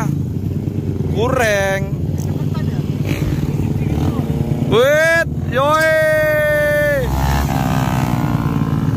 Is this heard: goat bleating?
no